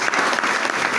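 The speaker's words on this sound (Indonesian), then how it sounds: "kita tepuk tangan buat Tuhan Yesus" Church congregation clapping for Jesus during a Pentecostal worship service, a dense, steady wash of many hands close and loud throughout the short burst, with no voices standing out.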